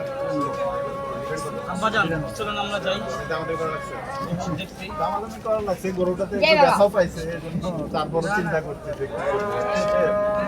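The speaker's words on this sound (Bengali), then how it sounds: "দর্শক বিরানব্বই হাজার টাকায় গরুটা বিক্রি হয়ে গেল সুকসান ভাইয়ের কাছ থেকে" Cows low and moo repeatedly, close by, amid busy crowd chatter and people talking at a cattle market.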